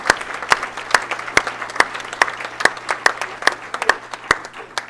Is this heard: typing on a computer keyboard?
no